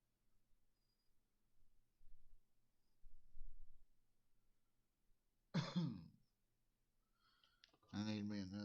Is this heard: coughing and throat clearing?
yes